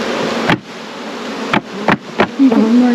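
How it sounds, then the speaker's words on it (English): Honey bees drone around an open hive during a spring split, a continuous close buzz broken by four sharp knocks or bumps, with a deeper hum rising at the end. "Get out of here, bees."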